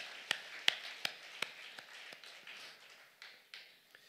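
Scattered claps from a church congregation during a Sunday festival worship service, a few sharp separate claps then thinning to faint, sparse taps over low background hiss.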